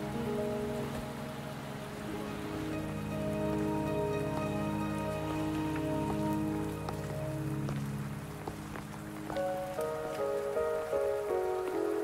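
Steady rain falls in the video game Wuthering Waves, a constant hiss of drops on surfaces beneath sustained musical tones, with no talking.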